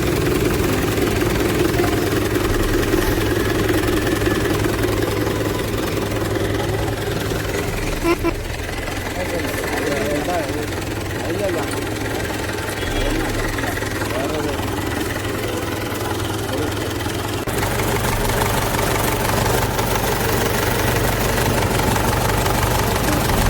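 A Mahindra 475 D tractor engine idles steadily after starting, following crankshaft oil seal replacement and radiator work, a continuous low rumble at constant level with a brief dip partway through.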